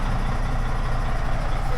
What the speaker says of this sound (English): Yeah, that's a diesel engine